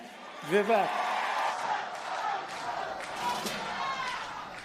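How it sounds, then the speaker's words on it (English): Large political rally crowd chanting Donald Trump's name, a loud continuous roar of many voices close behind, with a brief clear voice near the start. "as the crowd behind me chants Donald Trump's name"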